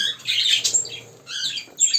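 Young pet bird chicks kept on a balcony squawk in shrill, raspy bursts, two clusters of loud close calls separated by a brief pause, with no talking.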